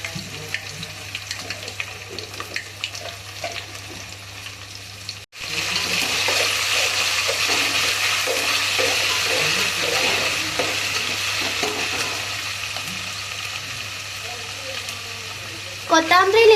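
Ginger garlic paste drops into hot oil for Kolhapuri mutton: a quiet stir gives way to a sudden, loud, steady sizzle with spattering, up close, that swells again near the end.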